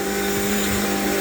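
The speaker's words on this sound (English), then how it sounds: "we also bought a bed vacuum" A bed vacuum cleaner runs steadily and loudly with a constant motor drone and whine throughout, no voices.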